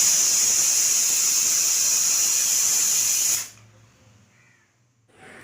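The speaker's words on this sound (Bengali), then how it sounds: "তো চলো প্রেসার কুকারটা বসিয়ে 4-5টা সিটি দিলে আমার মাংস রেডি।" A pressure cooker cooking goat meat lets out a loud, steady steam hiss for about three and a half seconds, then cuts off abruptly into near silence with faint kitchen sounds.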